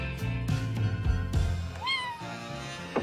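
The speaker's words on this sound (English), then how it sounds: "kittens make everything better" A kitten gives one clear, rising-then-falling meow near the end, close and fairly loud over steady background music with soft thumps.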